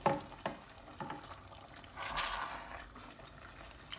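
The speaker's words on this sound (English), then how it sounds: "I'll add a little bit of water to it" Water poured into a pot of oil rice with salted beef, a short splashing pour swelling in the middle of the clip, with a few sharp clinks of a spoon or pot at the start.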